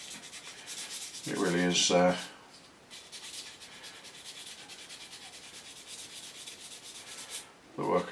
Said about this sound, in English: the work of a few seconds to sand and polish that out